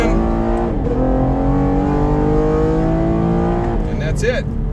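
A V6 Chevrolet Camaro RS pulls hard from a standstill toward 60 mph on the street, engine note climbing steadily through the rev range with a brief dip at a gear change, loud and close from inside the cabin.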